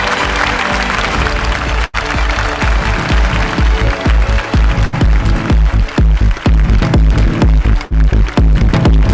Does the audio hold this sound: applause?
yes